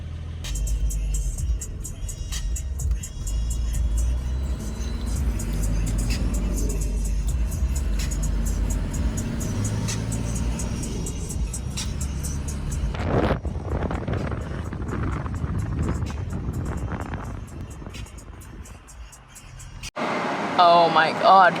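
A Toyota Land Cruiser 60 Series rolls along with a steady low engine and road rumble and some wind noise inside the cabin. The sound cuts abruptly near the end.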